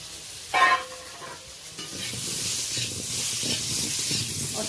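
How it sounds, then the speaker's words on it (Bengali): Potatoes fry with salt and turmeric in a little oil left in a wok after frying magur catfish, a loud, close, continuous hissing sizzle that builds after a brief clatter at the start. "মাছ ভাজার পরে কড়াইতে অল্প তেল আছে, ওই তেলেই আলুটা ভেজে নেব।"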